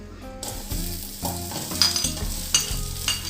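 Chopped onion sautéing in coconut oil in a pan, crackling sizzle with several sharp scraping stirs and clinks of a utensil, close and moderately loud.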